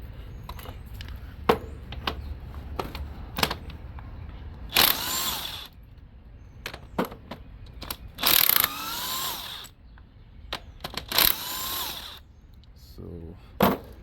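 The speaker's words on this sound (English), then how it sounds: "I need a 14 to loose these bolts." Rapid bursts of a ratchet wrench loosening 14 mm motor mount bolts on a Hyundai Elantra, several separate clicking runs between scattered knocks and handling noises, close and fairly loud.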